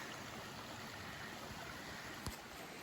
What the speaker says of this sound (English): Right by the creek.